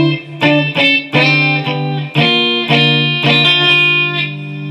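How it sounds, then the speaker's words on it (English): Distorted electric guitar playing a riff, loud and sustained, with chords struck in a choppy rhythm and ringing out between hits. "With the distortion, it's not as important as playing it because you're going to have so much noise"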